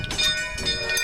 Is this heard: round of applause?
no